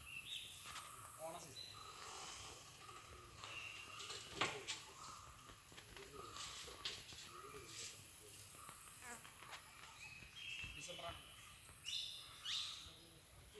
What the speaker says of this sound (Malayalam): നല്ല നിശബ്ദമായിട്ട് ഉള്ളതുകൊണ്ട് നല്ല വ്യക്തമായിട്ട് കേൾക്കാം കിളികളുടെ സൗണ്ടൊക്കെ